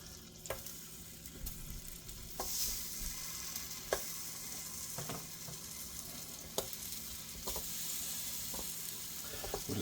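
Potatoes frying in a little oil on a flat griddle give a continuous close sizzle, broken by sharp periodic scrapes and taps from a spatula moving them around.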